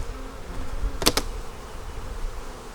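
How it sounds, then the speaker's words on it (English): Honey bees in a hive in a neglected bee yard make a continuous dense buzz. A sharp brief knock is heard partway through. "Okay, a lot of bees there."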